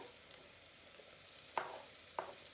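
Garlic and ginger cooking in a pan, a faint steady sizzle broken by two sharp scraping strokes of a utensil as they are stirred, quiet and close.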